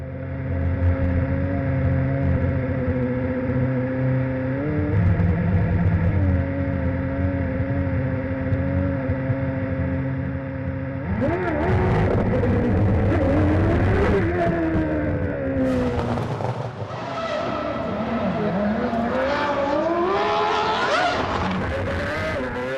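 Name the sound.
Williams Formula One car driving on Moscow streets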